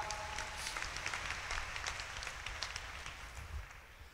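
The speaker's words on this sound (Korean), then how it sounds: "여러분 박수 한번 부탁드립니다." Audience at a citizens' roundtable meeting in a large hall claps together, a moderate burst of applause that stays fairly steady and then tapers slightly near the end.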